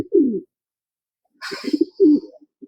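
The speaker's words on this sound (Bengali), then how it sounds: "কবুতরগুলো একটু দেরি করে ঢুকবে, এটা স্বাভাবিক।" Racing pigeons coo close by in short, soft throaty bursts separated by silence, with a brief higher rustle or flutter in the middle.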